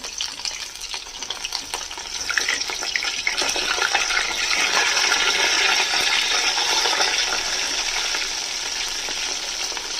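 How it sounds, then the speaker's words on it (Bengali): Chicken balls frying in hot oil, a loud, continuous bubbling sizzle that rises after the first couple of seconds and holds steady close up. "এটাকে হালকা করে ভেজে নেব"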